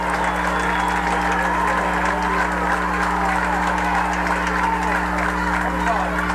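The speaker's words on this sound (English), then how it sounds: "That sure brings this crowd to its feet." A high school football crowd at a 1994 Logan at Zanesville game rises in sustained cheering and applause, heard at a distance over a constant low electrical hum.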